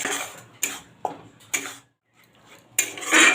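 Mustard-poppy-chilli spice paste being stirred in a pan, heard as a few separate scraping and clinking strokes of a utensil against the metal, with a brief pause and then a louder, longer scrape at the end.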